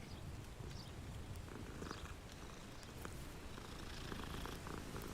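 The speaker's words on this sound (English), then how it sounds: "Pet the cat." A cat purrs steadily and faintly while being petted in Hogwarts Legacy, a soft continuous rumbling purr with no talk over it.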